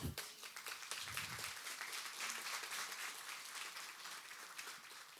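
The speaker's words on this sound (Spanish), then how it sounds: "Dale un aplauso al Señor." Church congregation applauds during a Spanish-language sermon, a sustained, even roar of many hands clapping at a moderate distance.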